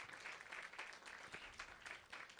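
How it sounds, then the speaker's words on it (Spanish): Audience applause for two guests at a church service, a steady wash of many hands clapping at moderate volume with no voices, continuing throughout. "vamos a darle un fuerte aplauso también a Elizabeth y John"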